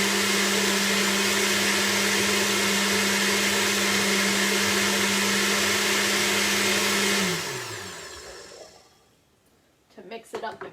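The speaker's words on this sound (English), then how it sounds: "I will keep it in the blender, and then I'll just" A blender blitzes green juice with a loud steady whir for about seven seconds, then spins down and stops, followed by a few faint clattering knocks.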